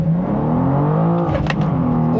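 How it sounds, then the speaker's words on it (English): A 2023 BMW M2 with a six-speed manual launches hard from launch control in first gear, its engine note rising steadily and loudly with a rasping, climbing drone and no talk over it. "We're in first, floor it, preparing launch control."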